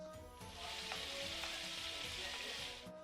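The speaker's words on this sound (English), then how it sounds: "Brown the meatballs all around, turning them regularly." Meatballs brown at high heat in a hot pan for a hearty Viking stew, giving a loud continuous sizzle with a few soft knocks as they are turned, and no voices.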